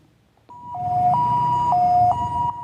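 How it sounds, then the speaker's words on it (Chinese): An ambulance siren wails close by at a crash scene in Tainan, alternating between two tones in a steady repeating cycle, loud and clear. "救护车赶到现场"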